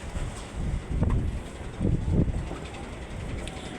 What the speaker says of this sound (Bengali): ও বাতাসটা কি!